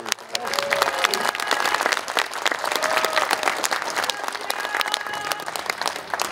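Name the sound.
audience applause for tenor and sopranos at concert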